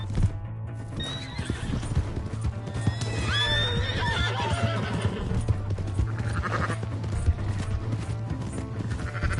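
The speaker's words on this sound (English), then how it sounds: "That's my horse!" In Red Dead Redemption 2, a horse whinnies several times over steady clip-clopping hooves, with a low engine-like hum and other game ambience throughout.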